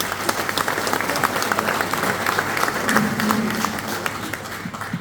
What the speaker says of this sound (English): Would you give him a big round of applause